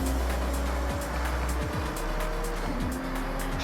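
A Nissan GT-R racing in the Forza Horizon video game at a festival, its engine loud and continuous with rising and falling gear-shift sweeps and tire noise, heard close with no talk.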